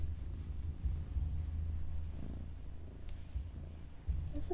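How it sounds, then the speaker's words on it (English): A cat's deep, rumbling purr sounds up close in a low, steady, pulsing drone, with no talking over it. "Listen to this rumble purr."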